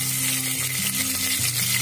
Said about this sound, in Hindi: तो फिर मैं इसमें डालूंगी थोड़ा सा लहसुन, साथ में डाल दूंगी प्याज